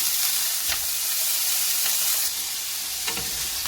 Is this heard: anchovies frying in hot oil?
yes